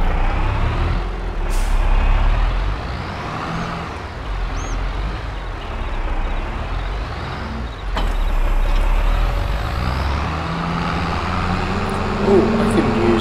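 Large tractor engine in Farming Simulator 22, a steady loud rumbling drone with a hissing release partway through and faint beeps, continuous and close, with someone talking over it.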